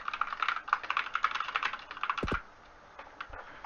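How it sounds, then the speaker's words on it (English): Fast typing on a computer keyboard, a dense run of quick close clicks that stops abruptly, leaving a few scattered taps and quiet room noise. "Yeah, I'm not the best at typing."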